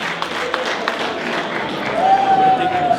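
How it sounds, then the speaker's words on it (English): Guests at a school gala evening applaud, a steady wash of clapping close by with a sustained tone appearing over it near the end. "A round of applause, please."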